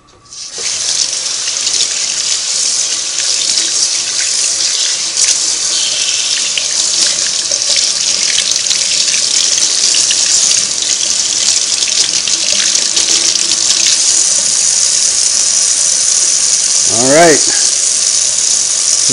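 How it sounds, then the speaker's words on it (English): Tap water runs steadily into a sink to rinse Singer 301A sewing machine parts, a loud continuous gush with slight rattles and a brief squeak near the end. "While I got the water running"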